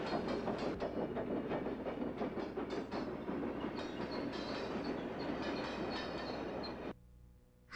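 A toy freight train runs along its track close by, sending out a quick, steady run of clicking and clattering wheel sounds for several seconds. It then stops abruptly, leaving a short stretch of near silence.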